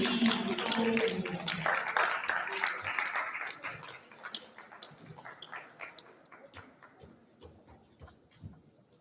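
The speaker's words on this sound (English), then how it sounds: "Give a round of applause, please." Audience applause at a school Global Day event as a student group is welcomed to the stage: a dense burst of clapping that thins out over several seconds into scattered, fading claps.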